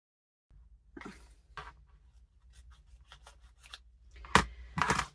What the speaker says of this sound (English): I'm using scissors instead of a torn edge, so it's still wobbly.